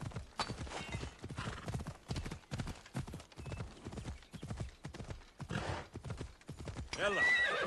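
A fire horse in Assassin's Creed Odyssey gallops with steady, close hoofbeats and lets out a loud whinny near the end, with no talking over it.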